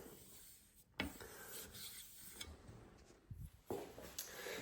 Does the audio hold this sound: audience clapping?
no